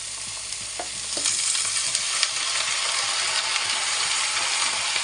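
Snake gourd frying in a pan with onion and green chili, a steady close sizzle with light stirring scrapes and a few soft clacks early on, continuous and even throughout, no talking.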